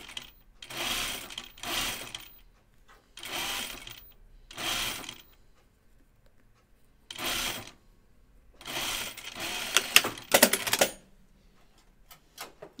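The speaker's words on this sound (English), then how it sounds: "So I'm just going to sew this in a tube since I don't have the right color thread on." A domestic sewing machine stitching a tube of fabric runs in several short bursts of rapid whirring, each lasting about a second, separated by pauses, with a few small clicks near the end.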